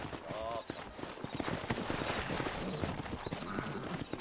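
Steady clip-clop of horse hooves at a walking pace in Red Dead Redemption, fairly close, under a dense layer of background game noise and a talking voice.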